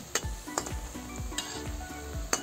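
Vegetarian yam koftas frying in hot oil, a steady sizzle broken by a few sharp clinks of a utensil stirring in the pan, close and with no talk.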